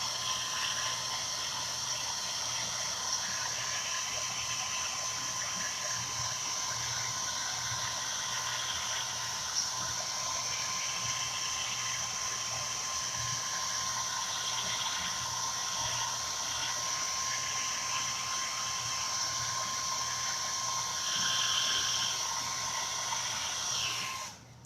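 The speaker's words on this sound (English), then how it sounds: "So hair dryer sound here." A hair dryer blows over freshly applied chalk paint on a black-framed board, a steady loud whirring hiss that runs unbroken for about twenty-four seconds before cutting off.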